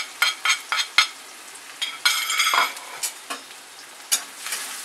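Finely chopped onion with turmeric and asafoetida frying in a pan, a bright sizzle with quick repeated spatula taps and scrapes, close by.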